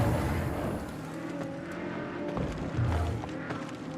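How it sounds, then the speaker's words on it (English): A spaceship engine in the video game Star Citizen, a loud continuous roaring hum with shifting rumble and faint whooshes, steady for the whole stretch with no talk over it. "Say that the engine sounds like a tractor beam."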